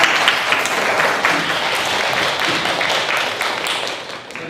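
A classroom audience applauding steadily, dense overlapping claps filling the space for several seconds before tapering slightly at the end.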